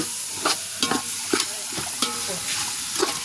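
Sliced onions for chicken biryani fry in a hot pan, a steady sizzle broken by about seven sharp scraping stir strokes at irregular intervals, close and moderately loud, with no talk.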